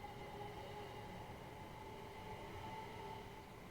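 A Class 375 Electrostar electric train in Train Simulator hums steadily with a rumbling, hissing cab drone and faint tonal whine, continuous and quiet with no speech.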